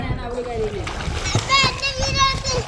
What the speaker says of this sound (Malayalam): നമ്മുടെ കുറുമ്പൻസ് നീന്താൻ വേണ്ടി വെള്ളത്തിലേക്ക് ചാടിയ കേസ്